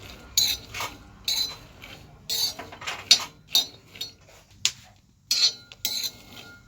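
Peanuts roasting in a dry pan while being stirred give a string of light clinks, rattles and scrapes in irregular bursts, close by, with quiet gaps between.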